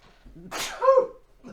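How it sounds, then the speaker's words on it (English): A single sharp sneeze bursts out after a quiet breath, followed by a short voiced tail, close to the microphone. "that was a sneeze that came out of nowhere"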